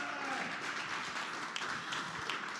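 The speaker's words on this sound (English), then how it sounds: "round of applause" An audience claps at a startup demo day competition as a finalist is introduced, a moderate, fairly distant round of applause with a few sharper individual claps, fading out quickly.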